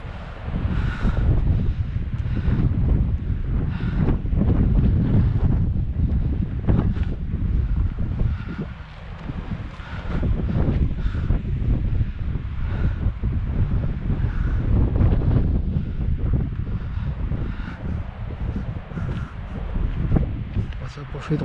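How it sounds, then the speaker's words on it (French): Seaside wind at Le Tréport on a sunny, blustery day, a steady loud roar with buffeting gusts on the microphone that holds for the full length with brief dips. "Il y a du vent, mais il fait beau."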